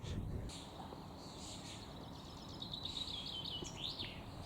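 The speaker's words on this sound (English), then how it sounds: "Birds whistling all about." Birds calling and whistling in Yorkshire Dales countryside near a church: faint scattered chirps and brief high whistles over quiet outdoor background, fairly distant.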